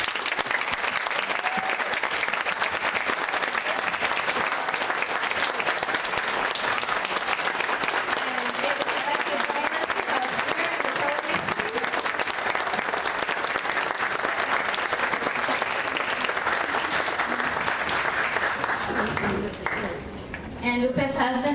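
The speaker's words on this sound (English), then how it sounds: "can we please give her a warm round of applause?" A graduation audience gives a long, warm round of applause, dense clapping holding steady and close for about twenty seconds before thinning out near the end, with some crowd voices mixed in.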